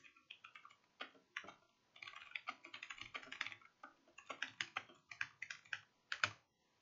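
Rapid keystrokes on a computer keyboard, heard close and clear in quick irregular bursts with short pauses between runs, with no talking.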